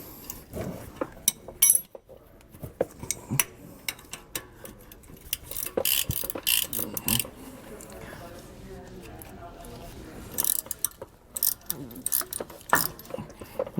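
Ratchet wrench clicks in irregular bursts as a bolt is tightened on a Roadmaster rear anti-sway bar fitted to a 2019 Coachmen Pursuit motorhome, with scattered metallic clinks of the tools and parts.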